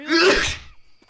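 A single sharp human sneeze, close and loud, opens with a quick inhaled catch and bursts out before trailing off in under a second.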